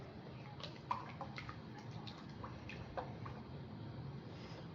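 Heavy whipping cream poured from a quart carton into a container, a steady soft liquid pouring and splashing with small drips, faint and continuous.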